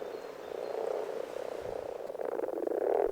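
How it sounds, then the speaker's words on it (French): Common frogs croak in a soft, continuous purring chorus from a pond, steady and fairly faint, with no voices over it. "le ronronnement des grenouilles rousses se fait entendre"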